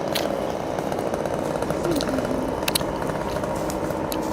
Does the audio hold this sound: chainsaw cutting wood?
yes